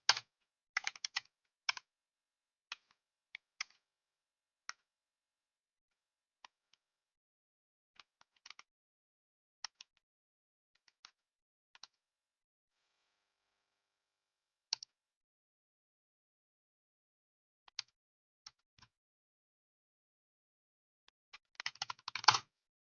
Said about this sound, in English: I really like this keyboard. Look at it's a mechanical keyboard